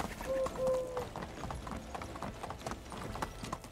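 Horse hooves clip-clopping in the medieval video game Medieval Dynasty while riding, a quick steady rhythm of hoofbeats with a brief tonal game chime early on and quiet talk at times.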